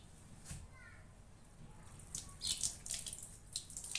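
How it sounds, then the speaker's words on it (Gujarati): Water is sprayed by hand onto a tyre to find a puncture: quiet background at first, then a run of faint, close hissing spurts in the second half. "ધીમે ધીમે ધીમે ધીમે પાણી આપણે ખાણ કરીશું"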